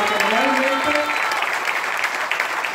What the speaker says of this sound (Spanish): les pido otro fuerte aplauso